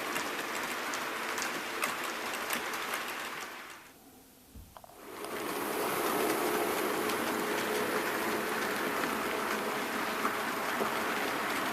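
A model train runs along the track of an Austrian Railways layout built in a loft, a steady close rolling rumble that fades out briefly around four seconds, then returns and carries on evenly.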